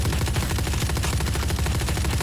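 Rapid automatic gunfire from a weapon in the shooter game Valorant, a loud, continuous burst of closely spaced shots running throughout.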